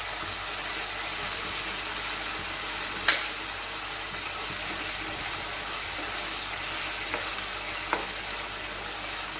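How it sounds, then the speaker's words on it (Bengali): Tomato, chili and soy sauces being stirred into chili chicken frying in a pan, a steady close hiss of sizzling with a couple of sharp spoon scrapes and no talking. "যে সসটা গুলে রেখেছিলাম, টমেটো সস, চিলি সস আর সয়া সস, সেটা একটু ভালো করে নেড়ে দিয়ে দেব।"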